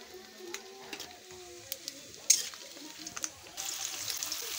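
Papad frying in hot oil gives a soft, crackling sizzle with scattered pops and a brighter burst of bubbling near the end, quiet and close with no talking.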